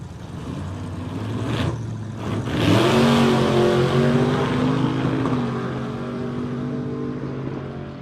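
Drag racing car on a test-and-tune night at Sunset Strip, loud engine rising in pitch as it launches and pulls hard down the track, steady roaring drone that eases slightly as it moves away.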